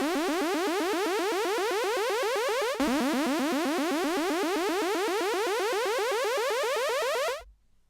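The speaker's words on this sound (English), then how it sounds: "now to create some steps in the pitch modulation, we will turn on this LFO here and insert this stepped wave shape" A synthesized sci-fi effect sweeps upward in rapid stepped pitch jumps driven by a fast stepped LFO on coarse tuning, loud and continuous for several seconds, restarting once midway before cutting off abruptly.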